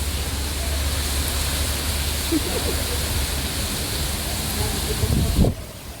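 Steady, even hiss of rain falling close by in the UAE, constant throughout, with a brief louder rush just before it suddenly cuts off.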